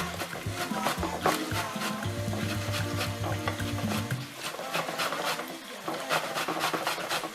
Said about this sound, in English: I'm using the grater. I'll grate the ginger as well.